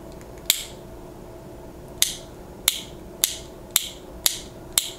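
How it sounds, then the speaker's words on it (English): A Benchmade 4300 CLA push-button automatic knife gives seven sharp, close metallic snaps at uneven intervals over a quiet background. "It is the push button automatic right here. Has a nice audible safety."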